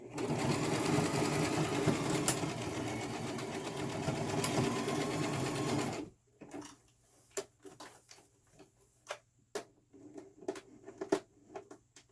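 A sewing machine sews a frontal wig in a steady, loud mechanical run for about six seconds, then stops abruptly, leaving quiet scattered ticks and small handling clicks.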